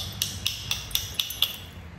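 Flintknapping on a stone point, beveling the edge to strike flakes off the other face, gives six sharp, evenly spaced clicking strikes, close and crisp, with no voices.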